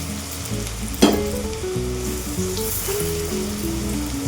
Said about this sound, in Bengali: তেলটা গরম হয়ে গেছে, এবার কাবাবগুলো ছেড়ে দেবো